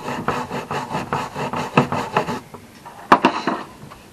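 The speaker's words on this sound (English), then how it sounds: "and then all you do is to clean it off and just scrape" Rivets on WW2 web gear scraped clean with a metal scraper: a run of quick rough rasping strokes in steady rhythm, then a pause and a few sharper, louder scrapes, close up with no talking.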